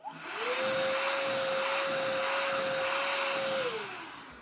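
A Kenmore DS1030 vacuum cleaner running on carpet: a steady, whining roar with a motor tone that rises at the start, holds for several seconds and winds down at the end, close and alone.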